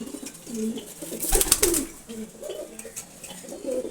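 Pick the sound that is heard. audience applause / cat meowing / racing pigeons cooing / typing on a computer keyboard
racing pigeons cooing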